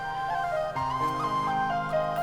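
A whistle in a song plays a bright, clear melodic line in a Celtic style over the band's backing music, steady and fairly prominent throughout.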